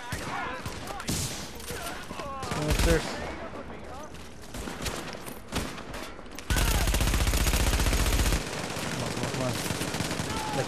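Gunfire in The Division's Dark Zone: rapid bursts of automatic weapon fire, including a sustained loud machine-gun stretch, close and dense, with a player talking over the shooting.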